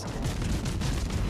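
Heavy naval gunfire from battleships in World of Warships: dense, continuous low booming and rumbling, loud and close, with no talk over it.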